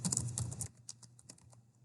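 Typing on a computer keyboard while building a Google Sites page: a dense burst of rapid key clicks, then a few sparser separate taps, close and clear with no talking.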